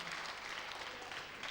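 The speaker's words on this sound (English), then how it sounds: "it's good to see the competitors clapping for each other" Fellow competitors at a bouldering event applauding a climber, a steady patter of clapping from a small crowd at moderate distance, sustained throughout.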